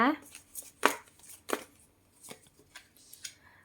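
Several short rustling bursts from tarot cards being handled and drawn, close and fairly crisp, spaced irregularly, with a voice speaking between them.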